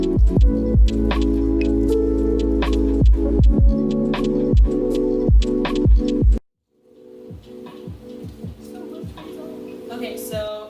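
Water dripping from rinsed fresh basil, a rapid stream of loud, close drips and splats that stops abruptly, then continues as softer, sparser drops with faint background noise.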